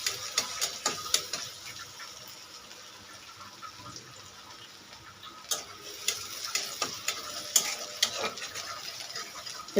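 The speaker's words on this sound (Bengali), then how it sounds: "পেঁয়াজ ভাজা ভাজা হয়ে গেছে।" Onions frying in a pan while being stirred, soft sizzling under a string of sharp scraping and clinking strokes from the spoon, irregular and fairly close, with no talking.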